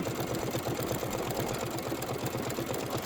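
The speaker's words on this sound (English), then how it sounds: "And I'm going to hit start, and we're going to go ahead and stitch out to the new year." Embroidery machine stitching out a Kimberbell New Year design on velveteen with a topper, a loud, even, rapid chattering pulse of stitches running continuously up close.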